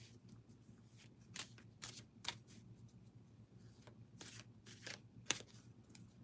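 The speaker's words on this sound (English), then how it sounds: "I pull oracle cards." Oracle cards being shuffled by hand, a quiet string of soft riffling flicks and taps at irregular intervals, close but faint, with no talking.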